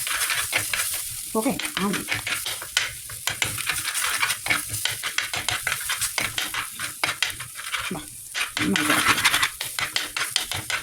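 Fish curry with soaked kudampuli water being stirred in a hot pan, a steady run of close scraping and clinking strokes over constant sizzling, with a brief spoken word or two.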